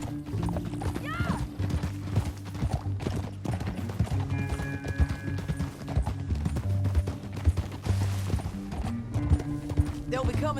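Horse hooves gallop in a rapid clip-clop rhythm through a canyon in Red Dead Redemption 2, with a neigh near the start and game music and voices running underneath.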